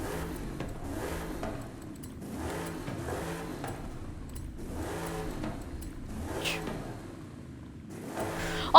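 A V8 engine in the Alumicraft 6165 Trick Truck in Forza Horizon 5 revs repeatedly in steady rising and falling pulses, loud and close, with no talk over it.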